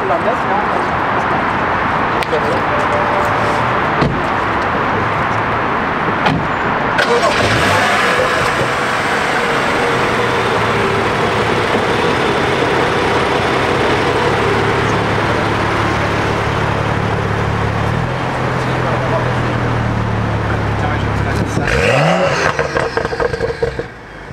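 A BMW 135i engine fires up and revs loudly, a steady roar with rising and falling surges, close by, with a person speaking over it near the end.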